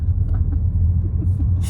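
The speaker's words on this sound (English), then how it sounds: "That car's ruining it, that Qashqai there." A Nissan Qashqai drives past close by with a steady low engine and tyre rumble, heard alone without talk.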